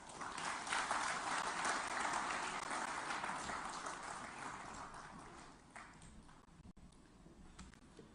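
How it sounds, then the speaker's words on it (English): An audience at the PlastIndia 2023 event in Hyderabad claps to welcome a speaker to the podium. The dense, steady applause rises quickly, holds for several seconds, then thins and fades toward the end, with no voices over it. "we welcome you to the podium with a vibrant sound of claps"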